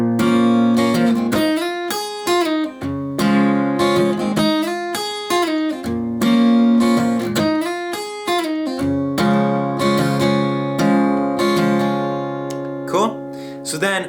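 Guitar plays an intro with a steady down-up strumming pattern, full bright chords ringing continuously with a few slides near the end, close and loud.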